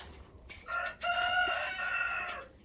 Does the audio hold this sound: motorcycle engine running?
no